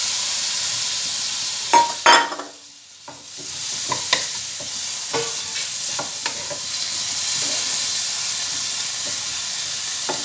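Butter, onion, garlic and spring onion fry with a steady close sizzle and hiss in a pan, broken by sharp clinks and scrapes of stirring, with a brief lull when the pan is moved.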